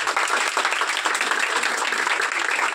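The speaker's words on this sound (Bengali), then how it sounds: "সেই স্যারের জন্য আমরা সবাই মিলে একটা জোরে হাততালি।" An audience applauds a teacher at a coaching centre event, with steady, dense clapping from many hands throughout, close and fairly loud with no talking over it.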